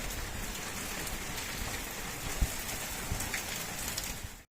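Steady rain, turning to snow, falls in a continuous broadband hiss, with a few slightly louder drops standing out now and then.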